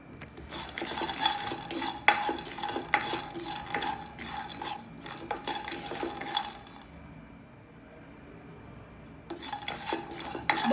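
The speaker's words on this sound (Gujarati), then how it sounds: "કઢાઈ તપી ગઈ છે, તો આ બંને આપણે શેકી લઈશું." Ingredients roasting over low heat in a hot kadai while a spoon scrapes and stirs against the metal in repeated close clinks and rasps, quieting briefly before the stirring resumes.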